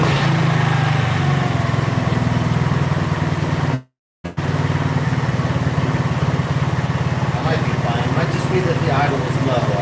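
A Chinese 125cc scooter engine idles steadily with its idle turned up, a continuous close putter that drops out for a moment and returns, with a voice speaking over it.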